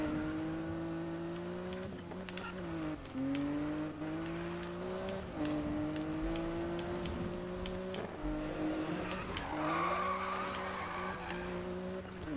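Tires squeal in long, sliding drifts from a car in Need for Speed, the engine droning and pitching up and down throughout, loud and close, with brief bumps and skids between slides.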